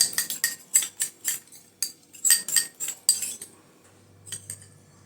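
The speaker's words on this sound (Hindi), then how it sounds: "इसमें डालेंगे कस्तूरी हल्दी, और इसको अच्छे से मिक्स कर लेना है।" A spoon stirring turmeric face mask paste with raw milk in a bowl, a quick run of sharp metallic clinks and scrapes against the bowl that slows to a few lighter taps near the end.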